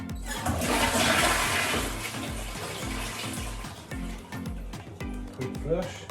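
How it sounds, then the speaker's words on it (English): A newly fitted toilet flushes with a loud, close rush of water that gurgles and swirls for several seconds before beginning to settle. "Quick flush."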